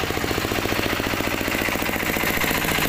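A small engine powering an odong-odong kiddie ride vehicle, an Amex 1125 unit, runs continuously with a steady, rapid mechanical chugging and vibration, loud and close throughout, with no talk.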